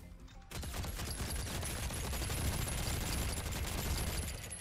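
A ballista loaded with chain bolas fires in Ark: Survival Evolved, setting off a dense, sustained volley of rapid mechanical shots that runs loud and unbroken for several seconds after a sudden start.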